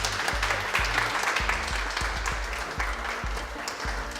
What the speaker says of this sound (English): Do we have a round of applause?